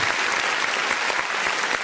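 Dense, continuous applause from the audience at a Hindi poetry gathering (kavi sammelan) welcomes a senior poet, a loud and even wash of many hands clapping together, heard close, with no speech.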